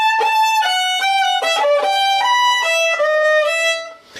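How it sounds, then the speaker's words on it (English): A violin plays a legato line from Handel's Bourree in which a long note is rushed and cut short instead of held its full three beats. The tone is bright and close, ending on a fading note, with no talking. "they will just sort of subconsciously rush those 3 beats and not hold them for the proper amount"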